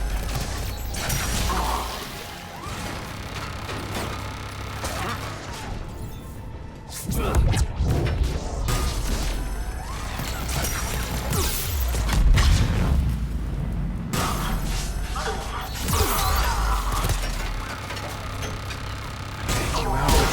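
Melee punches in Mass Effect 3 land as heavy thuds and crashes within a loud mechanical combat din, with booms and clanks layered over a rumbling game soundtrack and no clear speech.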